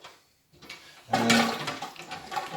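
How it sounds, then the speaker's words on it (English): Sanitizing liquid gurgling and splashing as it is pumped through a homebrew bottling siphon, a brief quiet moment then a close, wet rush of flowing liquid. "I'll give it a few pumps to just run the sanitizing liquid through."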